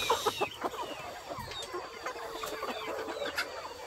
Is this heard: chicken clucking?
yes